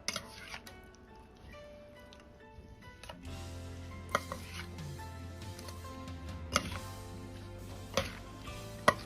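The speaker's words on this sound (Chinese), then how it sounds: "然后抖散后放入料汁中，用勺子先翻拌均匀" A spoon tosses shredded radish through sweet-and-sour sauce in a bowl, giving soft wet stirring with several sharp clinks of the spoon against the dish, fairly quiet and close.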